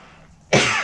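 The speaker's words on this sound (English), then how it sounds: "the air is just so dry outside, so it's causing these dry coughs happening" A single dry cough breaks out abruptly after a quiet moment, loud and close, blamed on dry outdoor air.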